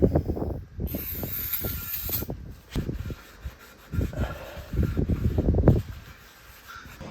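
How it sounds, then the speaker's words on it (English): Short hissing bursts of brake cleaner sprayed on a Nissan GT-R brake rotor, mixed with scraping and rubbing noises, close by and fairly quiet, coming in uneven clusters. "First, spray it with some brake cleaner."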